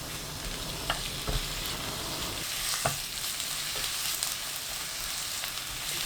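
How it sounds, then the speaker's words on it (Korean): Salted, squeezed eggplant stir-fries in two tablespoons of cooking oil over high heat, a steady close sizzle broken by occasional scraping knocks of a utensil against the pan, with no talking. "팬에 식용유 2큰술, 가지 넣고 센 불로 1분 볶습니다."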